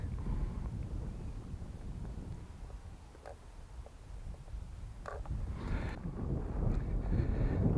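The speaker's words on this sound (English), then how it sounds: "it's a bit windy for this" Wind buffets the microphone in a continuous low rumble during an RC FPV plane flight, gusting stronger toward the end, with a few faint clicks and no talk.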